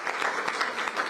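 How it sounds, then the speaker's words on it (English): Short burst of audience clapping at a public art exhibit unveiling in Washington, DC, steady and moderately loud throughout. "Let's give them a round of applause for their work."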